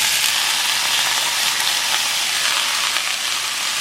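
Two cans of jackfruit frying in oil in a pot for Jamaican jerk jackfruit, giving a steady, close hiss of sizzling that holds evenly throughout with no talk.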